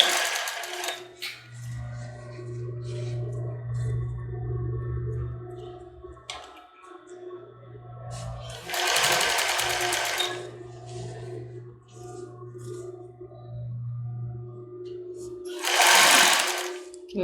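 A home sewing machine stitches fabric in a backstitch, running in a few steady bursts separated by short pauses. Someone speaks between and over the runs.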